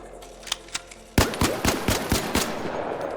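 Venator gunfire in the ARC Raiders training grounds: a few sparse shots, then a rapid string of about eight sharp, loud reports in quick rhythm.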